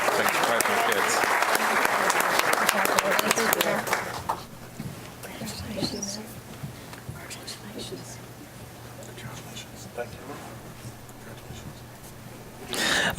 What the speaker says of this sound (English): Thanks for clapping the kids.